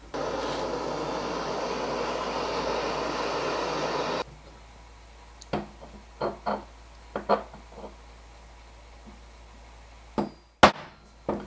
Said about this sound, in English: with a good hit of a hammer and uh, a chisel the right spot did the trick